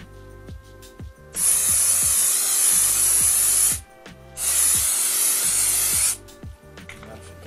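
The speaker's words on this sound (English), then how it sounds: "Go ahead and spray this down." Two long hissing bursts from an aerosol can of mold release sprayed for silicone molding, close by, each a few seconds long, with faint clicks and handling noises between them.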